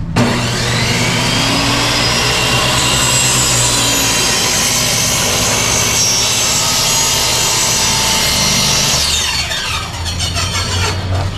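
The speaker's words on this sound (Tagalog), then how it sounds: "gumagamit tayo ng circular saw pag malakihan yung tinatabas natin, gaya na ito, isang board" Circular saw cutting through a board at a hardware store, a loud continuous whining buzz of the blade biting wood for about ten seconds, then winding down at the end.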